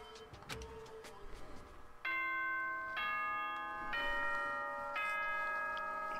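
A chiming morning announcement jingle from the game Danganronpa: Trigger Happy Havoc, a sequence of sustained bell-like tones rising in steps, ringing clearly after a brief stretch of quieter background sound.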